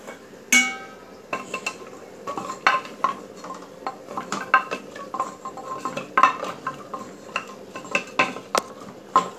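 Beef being stirred in a pot with jackfruit seeds and potato: repeated scraping clinks of a utensil against metal, close and steady, with soft knocks and no voices.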